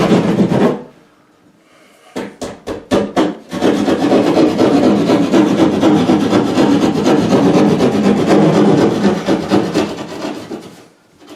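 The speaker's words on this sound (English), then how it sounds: "Just take the saw in just a little bit." A hand saw cuts into drywall to open a hole for a patch, giving a few quick short strokes and then a long, loud run of steady rasping back-and-forth sawing close by.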